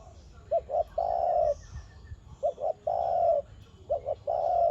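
A decoy forest dove coos in repeated phrases, each a couple of short notes followed by a longer sustained coo, close and clear against a quiet outdoor background, with brief pauses between calls.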